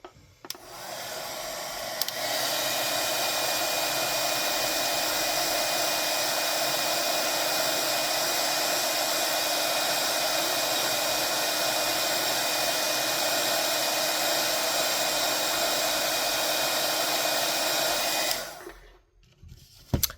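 A heat tool runs continuously, melting embossing powder on a handmade fairy door, with a steady loud blowing whir that starts after a brief click, holds for about sixteen seconds, then cuts off.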